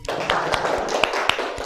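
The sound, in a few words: classroom students clapping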